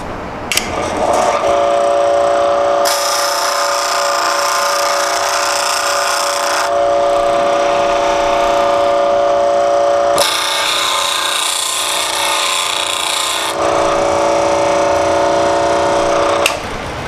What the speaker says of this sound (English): As you can see, it doesn't take long to grind the proper bevel on your chisel.